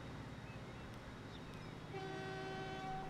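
Train running in the game Transport Fever 2, a low rumbling rolling drone with faint clicks, then a steady horn tone sounding over the rumble toward the end.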